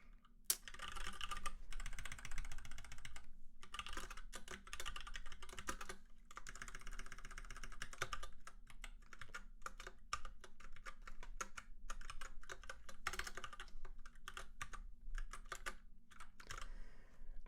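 Code being typed on a computer keyboard, a fast, continuous patter of close key clicks in irregular bursts with short pauses, alone without talk.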